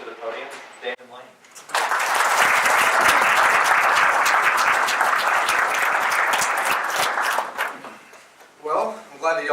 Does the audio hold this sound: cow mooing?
no